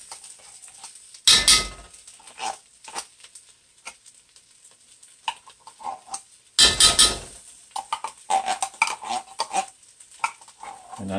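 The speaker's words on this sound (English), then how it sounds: "And I know people don't like to hear metal on metal." Metal spoon scraping and clanking against a tin can of tomato paste over a stew pot, two sharp bursts of scraping separated by softer irregular clinks, stirring taps and a faint sizzle.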